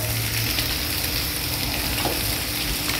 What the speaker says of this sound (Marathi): तीन ते 4 मिनटं आपल्याला हे सगळं व्यवस्थित परतून घ्यायचं आहे.